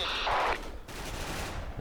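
An AN94 machine gun fires in the Special Force online shooter, a short loud rapid burst followed by a fading rumble of game ambience.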